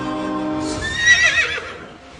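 A horse gives a loud, close whinny that rises and breaks into a shrill, quavering neigh before tapering off.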